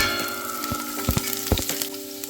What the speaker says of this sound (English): First, we're gonna add the garlic. Get that in there. That's the sound you want to hear.